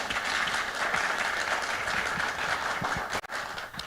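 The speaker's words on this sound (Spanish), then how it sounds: "un aplauso para Marcela, por favor." Applause for Marcela at a panel event in Colombia, dense continuous clapping from a roomful of people that holds steady before a brief dip near the end.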